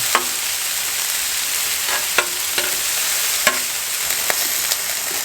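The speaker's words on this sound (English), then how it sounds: "Give these onions another quick turn." Onions fry on a Blackstone griddle, a constant close hiss of sizzling broken by several sharp spatula scrapes and taps as they are turned.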